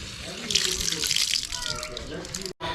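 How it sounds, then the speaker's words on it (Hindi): An open water tap at an outdoor cement washing spot in Uganda runs in a continuous splashing stream, close and clear, with a sudden brief cut near the end. "एक ही टैप है जो खुला हुआ है जिससे वो पानी का यूज़ करते हैं।"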